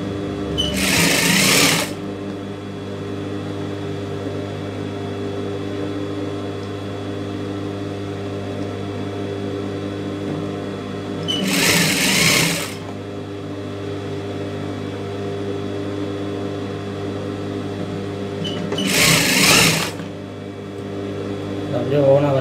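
Sewing machine stitching blouse pieces together, with three loud bursts of fast, even stitching separated by long stretches of quieter motor hum.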